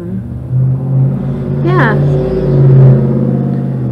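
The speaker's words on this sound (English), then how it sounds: "Big noisy truck going by." A big, noisy truck passes by outside, its low rumble swelling and fading over a few seconds beneath a nearby voice speaking indoors.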